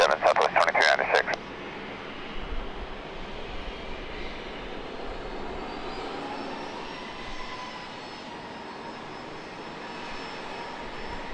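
A Southwest airliner takes off in San Diego, its jet engines rising into a broad, steady roar that builds and slowly shifts in pitch, after a brief burst of radio chatter at the start.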